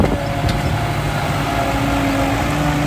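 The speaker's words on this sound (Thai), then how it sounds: "รถแท็กเตอร์หรือว่ารถไถครับ โซลิดนะโซลิด 110 ทำทางครับทำทาง" A Solis 110 HP tractor, working to level a dirt track, runs close by with a steady loud engine drone and low hum, holding an even idle-like tone throughout.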